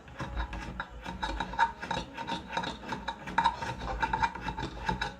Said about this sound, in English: I will screw this in initially, and bear in mind that the washer is there.